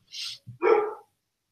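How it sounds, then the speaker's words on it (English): A dog barks in the background, one short yip followed by a fuller, louder bark, close and clear with no voices over it. "sorry if you can hear my dog barking in the"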